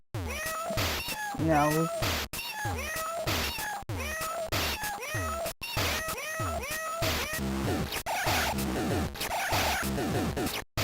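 A person imitates cat meows with their mouth for a game soundtrack, producing a long run of rapid, wavering meows and yowls, loud and close, with a brief spoken word at the start.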